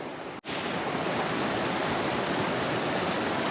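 A small mountain stream on the trek from Nar toward Upper Mustang rushes in a steady, close roar of white-noise water, broken only by a brief dropout near the start, with no voices.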